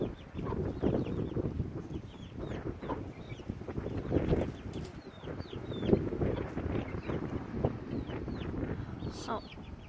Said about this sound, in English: Oh, hen fight.